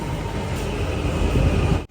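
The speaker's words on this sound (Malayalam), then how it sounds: "ഇതേ പോകാനുള്ള മെട്രോ വരികയാണ്" A Delhi metro train pulls into a crowded station: a continuous low rolling rumble with a faint high whine, close and fairly loud, then cutting off abruptly.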